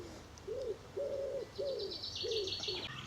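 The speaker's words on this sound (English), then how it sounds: "And of course the old collared doves," Collared doves give soft, hollow coos in a steady repeated rhythm, four rounded notes, fairly faint, with distant bird chirps behind them in a village near Hitchin.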